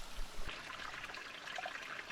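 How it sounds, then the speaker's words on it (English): A stream runs on Kauai, water trickling and babbling steadily at close range with no voices. "there is just running water everywhere"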